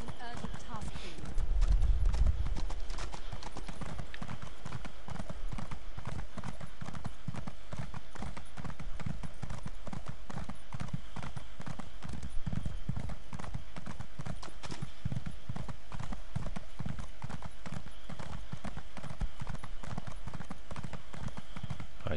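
Continuous rhythmic clip-clop of horse hooves trotting at a steady pace in The Elder Scrolls Online, with a thump near the start and a low background rumble throughout.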